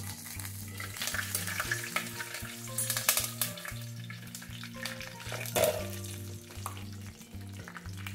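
Curry leaves spluttering in hot oil, a close sizzling crackle with sharp pops and bursts, some louder spits midway, with a low background hum and no talking.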